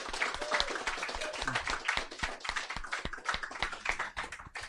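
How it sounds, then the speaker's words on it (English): A few people clap at a podcast recording for a competition winner, a sparse scattering of close, irregular claps with faint voices mixed in. "round of applause for Ashens for winning that competition"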